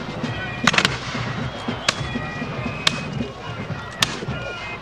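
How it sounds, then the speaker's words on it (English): Musket volleys in a Battle of Bunker Hill reenactment, heard as several sharp cracks at uneven intervals, a close cluster of shots followed by scattered single reports over a busy background murmur. "There's another lethal volley."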